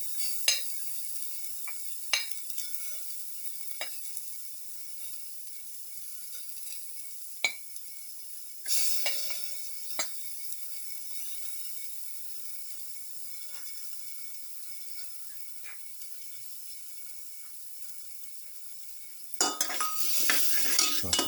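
Garlic sautés quietly in a pan with a faint steady sizzle, while a utensil clinks and scrapes against the pan in sparse taps and stirs, closer bursts of frying near the end, no talking.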